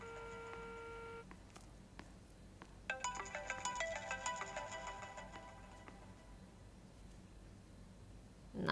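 A phone ringtone plays faintly in a quiet indoor space as an unanswered call. A brief tone opens it, then a longer repeating melodic ring sounds for a few seconds before fading out, with no voices.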